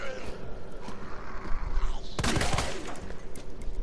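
Rapid gunfire in a video game as the player shoots at Lickers, dense overlapping shots and impacts in a loud, sustained burst that surges midway, with game noise throughout.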